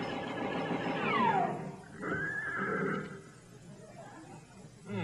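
A horse neighs loudly and close by, giving a long whinny that sweeps downward and is followed by a second, shorter call, over steady background noise.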